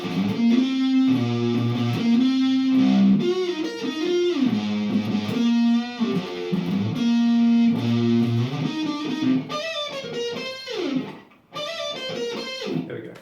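Distorted electric guitar solo, played through effects with bending lead lines over a heavy driven low tone, loud and close with a brief dip near the end.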